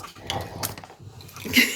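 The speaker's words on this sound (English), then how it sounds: "That's my dog chewing on one of his toys." Close gnawing and clicking as a dog chews a hard toy, with irregular scraping and knocking noises in a short, uneven burst.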